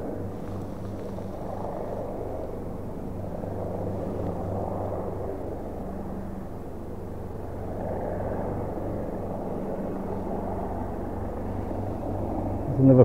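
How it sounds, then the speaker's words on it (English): An air rescue helicopter flies slowly over a beach where surfers are out, its low steady rumble continuous and fairly distant for the whole stretch, with a slight swell toward the end. "That's the air rescue."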